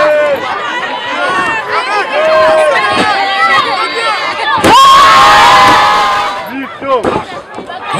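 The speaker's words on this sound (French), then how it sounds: "Applaudissez quand même pour le commando Chora. Applaudissez pour Franklin Kifonza." A crowd at a wrestling match cheers and shouts loudly, with excited high voices and children yelling, surging into a bigger roar midway through; loud voices call out over the noise.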